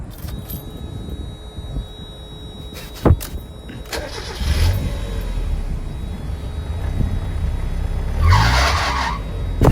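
A Mazda Miata with a loose fan belt is cranked over. A few clicks come first, then the engine catches and runs with a rough mechanical rumble. A sharp belt squeal rises near the end, close and fairly loud.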